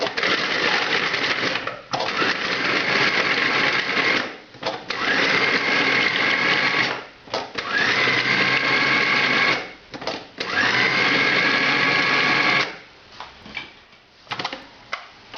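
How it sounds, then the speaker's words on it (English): A food processor or grinder whirs loudly, grinding garlic and other ingredients toward a smooth consistency for stuffed Russian peppers, running in several long bursts separated by short pauses and ending with quiet handling noises. "We're going to grind this up to get smooth consistency,"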